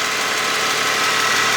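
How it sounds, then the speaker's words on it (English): Ford Mustang engine idles loudly up close with a steady running drone and a faint rapid ticking from an exhaust leak, no voices. "looks like we've developed an exhaust leak, and that might be the cause of the ticking, rather than it being a lifter."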